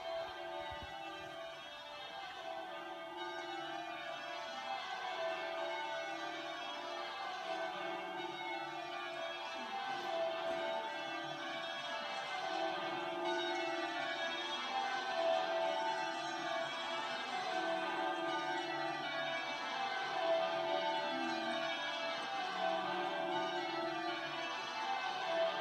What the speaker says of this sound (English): So with the Abbey bells sounding the news of his coronation throughout the United Kingdom and beyond, Charles's journey